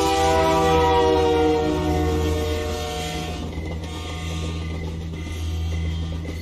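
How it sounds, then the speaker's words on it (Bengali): A train passing in a dramatised audio story, a loud, sustained tonal horn-like drone over rumbling wheels that gradually softens and fades after a few seconds, with no talk. "ট্রেনের আওয়াজ আস্তে আস্তে মিলিয়ে যেতে থাকে।"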